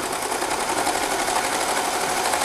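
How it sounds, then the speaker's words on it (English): A serger sews and trims the edge of a t-shirt's sleeve opening with a steady, fast, close mechanical whir that runs without pause. "since the serger cuts as we're going, I'm just going to cut this little extra off"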